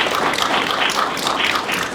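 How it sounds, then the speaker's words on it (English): A crowd applauds Post 28 at the dedication of Ohio's Medal of Honor Highway on US 20. The clapping is steady and crackling and holds at an even level throughout, with no talk over it. "Let's give them a round of applause for doing such a great job this morning."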